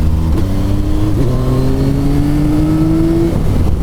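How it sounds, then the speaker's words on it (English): A 2024 Yamaha XSR900 GP motorcycle engine pulls hard under full throttle, its loud, rising drone broken by quick blips as it downshifts two gears, close and continuous. "you can start accelerating, so you get full power on the throttle, but you can downshift 2 gears"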